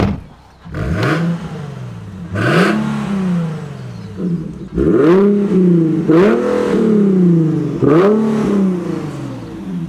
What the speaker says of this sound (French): Ah, un V6, ça a toujours une belle sonorité, c'est sympa.